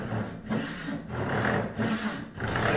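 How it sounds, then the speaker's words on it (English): A hand saw cuts walnut wood at a tilted angle for an axe wedge, producing rhythmic back-and-forth rasping strokes about every half second, close and steady with no speech. "What I'm doing is I'm tilting my saw at an angle"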